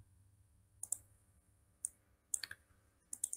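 Computer mouse clicks while working in a spreadsheet program, sharp and close in a quiet room, arriving as a few scattered single and double clicks with gaps between them.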